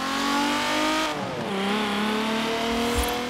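Hot Wheels Bone Shaker car engine in the racing video game Forza Horizon 4, revving steadily and loud with a pitch dip as it shifts, then climbing again, close and alone.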